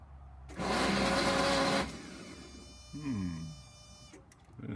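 The diesel engine of a 1982 VW Vanagon Westfalia cranks hard for about a second and a half without catching. It is followed by a short whirring, rising mechanical whine and faint clicks.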